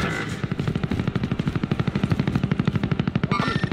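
Rapid automatic gunfire in Call of Duty Warzone Resurgence Quads, a steady burst of evenly spaced shots running through the whole stretch, loud and close, with no talk over it.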